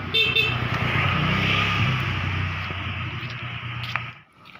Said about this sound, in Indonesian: Kita lihat suara dari motor ini, guys.